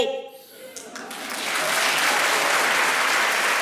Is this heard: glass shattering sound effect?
no